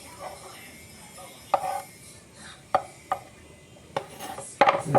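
Chopped tomatoes scraped and tipped from a board into another container in a home kitchen, several sharp knocks and clatters spaced out among soft shuffling, close by, with no talking.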